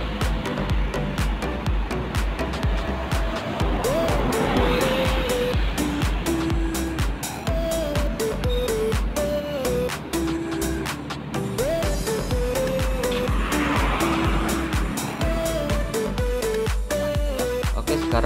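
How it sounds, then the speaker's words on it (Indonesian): Tronton Jet Bus 3 luxury coach on a Makassar to Parepare trip, heard from inside the cabin: a steady low engine drone and road rumble throughout, with gear and engine pitch shifts rising and falling and faint wash of tire noise. "sekarang kita lanjut lagi perjalanan menuju kota Parepare dengan bus kita tujuan Mamuju"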